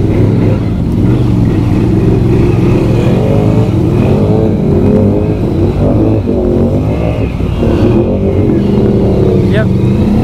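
A Can-Am Outlander ATV in four-wheel drive churns loudly and steadily at close range while hopping a log in a swamp, its engine revving and surging throughout, with people talking over the noise.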